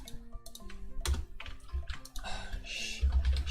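Typing on a computer keyboard: a quick, uneven run of soft key clicks, close by, over a faint background tone and some broadband noise, with no speech.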